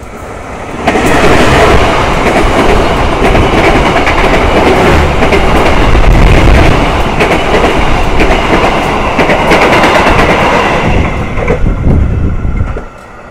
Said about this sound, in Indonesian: Nah teman-teman, itu dia kereta api Sri Tanjung.